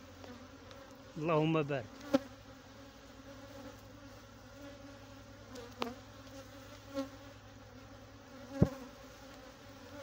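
Honey bees buzz steadily at an open, well-populated beehive during inspection, a low continuous hum with a few brief louder passes near the frame and a short murmured voice.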